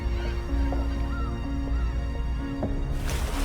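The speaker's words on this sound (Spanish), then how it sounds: "En el cielo pasaban bandadas de aves marinas." A flock of seabirds calls over open sea, with scattered honking cries rising above a dense, constant background roar, moderately loud and without talk.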